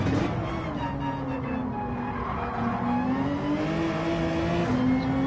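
A race car engine in Gran Turismo 7 at Bathurst holds a loud, steady drone that climbs in pitch and shifts through gears, with faint tire noise and no voices.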